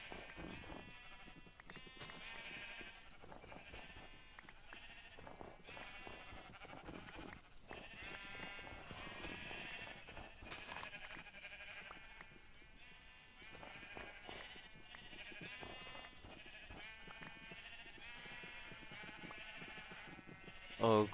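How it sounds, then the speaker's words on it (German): Loud, continuous sheep bleating in the Minecraft video game, many overlapping calls repeating throughout and dominating the mix, with a voice speaking faintly underneath. "ihr könnt gerade vielleicht wenig hören, weil die Schafe so laut sind"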